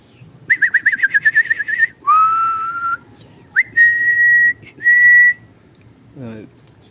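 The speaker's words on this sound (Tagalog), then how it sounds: "Sipol." A person whistles close by to call pigeons: a rapid trill of short notes, then several long sustained whistles with pauses, ending with a low rough sound.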